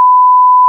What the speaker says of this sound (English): Yeah, I'll bleep that